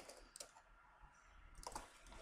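A name is typed on a computer keyboard in a few quick soft keystroke clusters, near and faint against a quiet room, with no voices.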